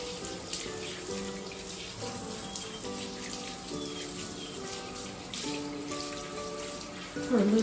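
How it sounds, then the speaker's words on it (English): A steady shower spray rinsing a dog, hissing continuously at close range with a constant wash of water and faint splashing shifts as the stream moves. "let's get you rinsed really well"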